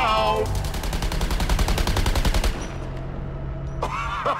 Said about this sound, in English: Shoot away, Boomerang!